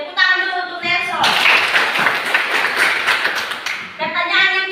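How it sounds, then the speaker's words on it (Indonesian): A classroom of children claps for a classmate, a burst of scattered close applause between stretches of a teacher speaking. "Tepuk tangan dulu untuk Nelson."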